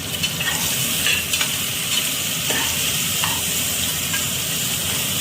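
Small onions, curry leaves and chopped tomato sautéing in a pan for mutton kulambu, a loud continuous sizzle with the steady scrape of stirring and occasional utensil taps against the pan.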